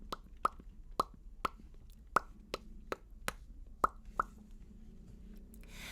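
Children imitate popcorn popping with a series of about ten sharp, separate mouth pops, quick and irregular, close by against a quiet room.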